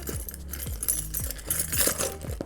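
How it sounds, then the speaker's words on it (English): Car keys jangle and clink together in a steady series of close metallic rattles and chimes, handled near the listener for a couple of seconds with no voices. "my car keys"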